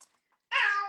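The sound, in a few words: cat meowing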